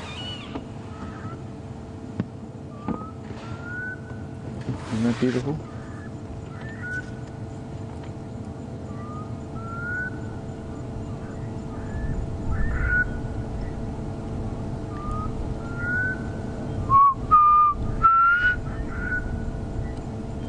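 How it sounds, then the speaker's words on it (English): Bird calling repeatedly during an evening safari game drive, short whistled notes at a steady pace over a low vehicle drone, with a few louder bursts near the end and brief talk. "just listen to this bird calling"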